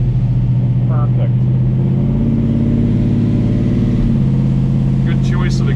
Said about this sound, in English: That 3-inch exhaust is perfect.